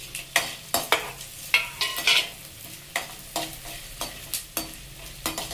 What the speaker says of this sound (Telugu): తాలింపు గింజలు బాగా వేగనిచ్చి